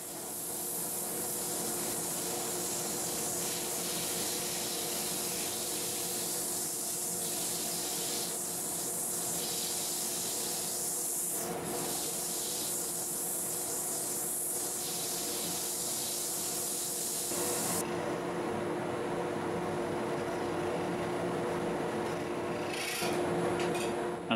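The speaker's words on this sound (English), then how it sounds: "start sanding here. I work my way through all the grits." Sandpaper rubbing against a spinning plywood and mesquite vase on a wood lathe, a steady broadband rasping hiss that runs continuously throughout, shifting slightly in tone partway through, with no talking.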